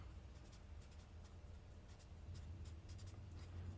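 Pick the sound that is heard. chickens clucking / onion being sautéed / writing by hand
writing by hand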